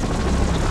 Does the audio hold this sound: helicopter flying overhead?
yes